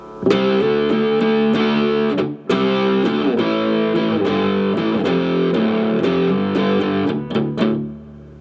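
A distorted electric guitar in drop D tuning plays a chunky, low intro riff with sustained chords and sharp picked attacks, briefly pausing midway before continuing, loud and close.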